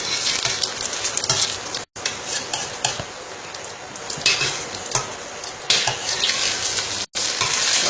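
Food sizzles and crackles in a hot electric pan while a utensil scrapes and stirs repeatedly, close and busy, with no talking.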